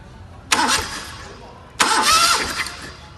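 Two short bursts of a car engine cranking on the starter during a compression test with a tester fitted in the number one spark plug hole, each burst loud and close and lasting about a second.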